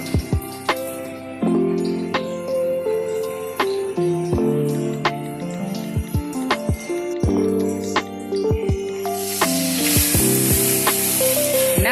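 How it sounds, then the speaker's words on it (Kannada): Oil sizzles and spits as soaked Sona Masoori rice fries in tempering for mutton biryani, while a spoon scrapes and clinks against metal, with a louder hiss building toward the end. "ಒಗ್ಗರಣೆಯಲ್ಲಿ ಫ್ರೈ ಮಾಡಬೇಕು ಅಕ್ಕಿನ"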